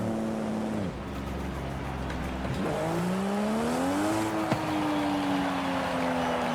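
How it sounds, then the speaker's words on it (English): A car engine in the Forza Horizon 5 video game revs and shifts, pitch rising and dropping through gear changes, loud and sustained, with a brief tire noise. "car sounds amazing"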